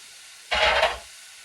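A brief burst of sizzling hiss from meat frying in a nonstick pan flares up for about half a second, then quickly fades back into quiet background.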